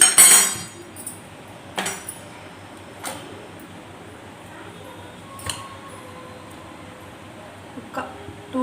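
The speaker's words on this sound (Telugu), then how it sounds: "కుక్కర్ పెట్టాను." A pressure cooker is set down on a lit home kitchen stove, giving a sharp metallic clank followed by a few scattered, lighter clinks of metal against metal in a quiet room.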